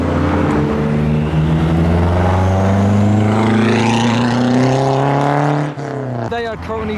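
Nissan Zenki S14 and Toyota GR Yaris pulling away from a Japanese car show, loud sustained engine drone with rising revs close by, ending in a sharp shift and burbling exhaust pops.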